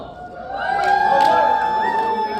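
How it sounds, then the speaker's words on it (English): Audience booing in a hall at a youth entrepreneurship summit at U of M Flint, a sustained crowd drone of drawn-out voices that swells steadily and stays fairly loud throughout. "Oh, I hear some booing."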